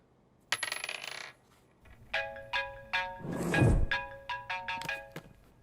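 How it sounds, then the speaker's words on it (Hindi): A phone rings repeatedly with a series of short electronic chime bursts, close and fairly loud, broken by a low thump partway through; no one speaks over it. "किसका फोन है?"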